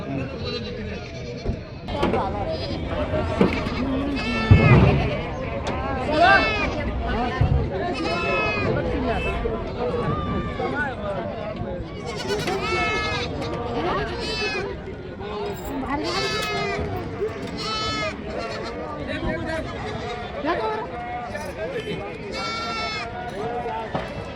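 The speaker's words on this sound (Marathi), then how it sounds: "शेळ्या वगैरे" Goats bleat again and again, close and loud, over a steady hubbub of people talking at the busy Belhe goat market in Maharashtra.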